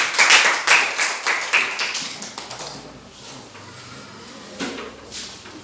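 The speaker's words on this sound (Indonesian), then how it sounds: "Beri tepuk tangan untuk Dipani dan Sinar." A small group of classmates claps for two student presenters in a classroom, with a few sharp, loud bursts at the start before the clapping thins into scattered, quieter taps.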